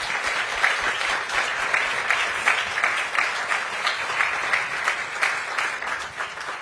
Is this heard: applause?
yes